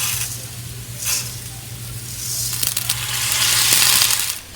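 Rice tipped into a hot oiled pan for Hainanese chicken rice, a steady close sizzle with gritty scraping and stirring that swells toward the end, over a low constant hum.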